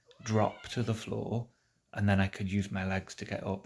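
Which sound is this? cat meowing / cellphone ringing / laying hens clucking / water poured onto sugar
cat meowing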